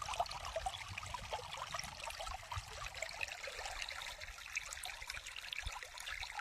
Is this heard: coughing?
no